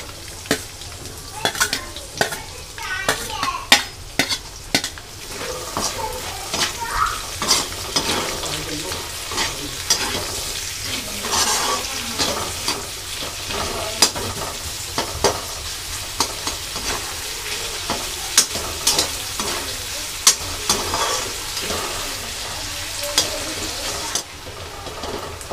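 Chopped onions sizzle steadily in hot oil in a pan for a potato and pointed gourd (aloo parwal) dish, with a spoon scraping and stirring through it in irregular bursts, close and continuous without talk.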